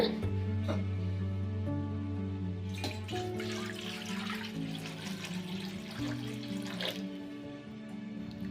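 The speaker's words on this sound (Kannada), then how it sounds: "ಈಗ ಕಡಾಯಿಗೆ ನೀರು ಹಾಕ್ಕೊಳ್ಳೋಣ" Water runs steadily from a tap into a kadai, a continuous pouring sound that shifts in pitch as the vessel fills, with occasional clinks.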